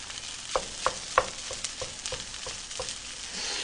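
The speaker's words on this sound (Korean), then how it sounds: "조금 더 볶아서 수분 조금만 더 빼주면 완성이에요" Ham kimchi fried rice sizzles and crackles steadily in a pan, with a few sharper scraping taps of stirring at irregular intervals, close and moderately loud, with no talking.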